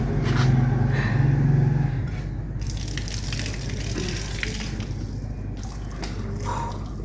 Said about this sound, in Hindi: पैर धो रही हूँ क्योंकि कहीं रखे नहीं जाएंगे